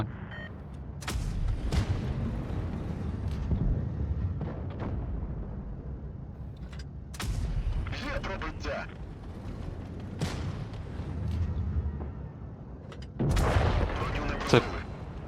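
Several heavy tank cannon booms from the game World of Tanks Blitz, with an AMX M4 45, ring out over continuous engine rumble and game noise, with sharp loud blasts near the start, middle and end.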